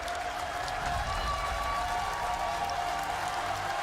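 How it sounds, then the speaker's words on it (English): Crowd at the Apex Legends esports grand finals applauding, a steady wash of clapping and cheering from many people at moderate distance, even and sustained. "as the crowd pays their appreciation to every player on this stage and every team"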